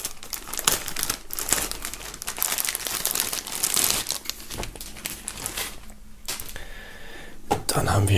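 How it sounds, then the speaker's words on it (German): Plastic foil crinkles and crumples continuously as a shirt and other items from an MC Bilal Herzblut merch box are unwrapped, close and busy, with a person talking over the rustling. "holen die diversen Sachen mal aus der Folie."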